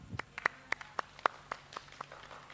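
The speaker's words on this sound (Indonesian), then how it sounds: "Baik, beri tepuk tangan." Sparse, uneven hand claps ring out at a storytelling competition, a small scattered round of about a dozen separate claps rather than a full crowd ovation.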